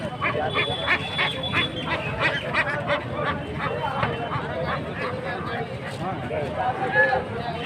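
Ducks and geese at a busy village market during a Mansa puja fair, with honking and quacking in a crowded din, a dog barking now and then, and people talking throughout.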